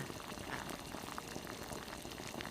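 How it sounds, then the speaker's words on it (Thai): A pot of sour bamboo shoot fish curry with turmeric and fermented fish sauce bubbles at a steady rolling boil, a dense, soft, constant gurgle heard up close without talk. "นี่ค่ะเริ่มเดือดได้ที่แล้ว"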